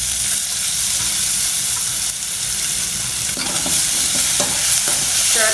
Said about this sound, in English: heat a little bit of oil. Add in the chopped onions and tomatoes.